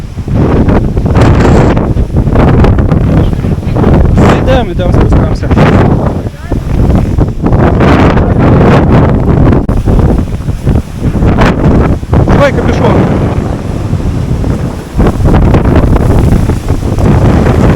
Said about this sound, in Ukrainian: Це вітер.